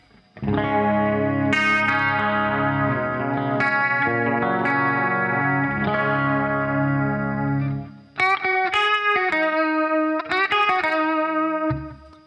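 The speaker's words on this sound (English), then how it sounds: "now let's do this chorus" Clean electric guitar chords with a shimmering, warbling chorus effect, played steadily and loud, then a brighter picked passage with the same wavering modulation.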